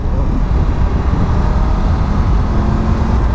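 A large motorcycle with a quickshifter being ridden on a fast lane, its engine giving a steady, loud, continuous drone with road and wind noise throughout.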